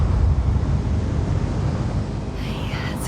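Spacecraft engines giving vertical thrust in the video game The Invincible, a loud, steady, low rumbling roar like rushing wind that holds throughout, with a faint rising whistle near the end.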